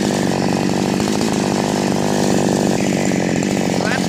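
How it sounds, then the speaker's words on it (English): A Chinese-made chainsaw revs loud and close after a carburetor adjustment, a continuous high-pitched buzzing roar that holds steady with slight shifts in pitch throughout. "So it seems to rev up good."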